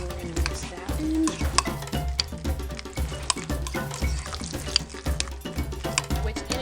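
Tomatoes being stirred and mashed into guacamole in a bowl, with a steady run of repeated wet, squelchy strokes close up and no talking.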